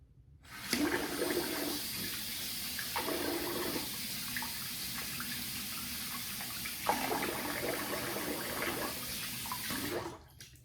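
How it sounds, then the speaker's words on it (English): Water runs steadily from a bathroom tap for rinsing the face after a shave, a close, continuous splashing stream with faint shifts as hands move through it, then stopping abruptly near the end. "I'm gonna rinse the face and then we'll get into the post"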